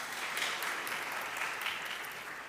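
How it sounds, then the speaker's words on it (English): An audience at a university memorial event applauds in steady, sustained clapping heard faintly from a distance, with no voices over it. "Let's give them a round of applause."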